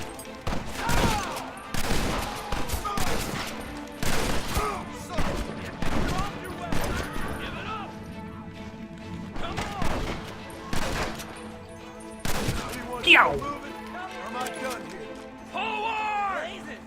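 Pump-action shotgun blasts ring out in a Red Dead Redemption shootout while charging a fort, loud repeated bursts in irregular clusters mixed with other gunfire, with people talking over the shots throughout.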